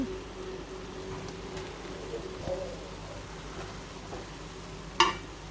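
Pasta sauce with tomatoes, pasta seasoning, chili powder and soy sauce being stirred in a pan: a steady soft sizzle with light scraping throughout, and a sharper clink near the end.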